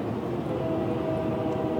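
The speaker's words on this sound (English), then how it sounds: "A train." A train rumbles past in the dark, a steady, loud low roar of rail cars with a faint tonal hum running through it, with no voices over it.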